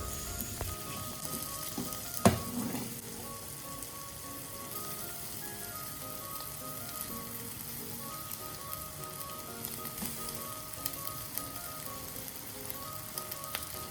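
A pepper stir fry sauce simmers gently in a pan over low heat, giving a steady, soft, continuous sizzle with a brief louder clatter near the start and no talking.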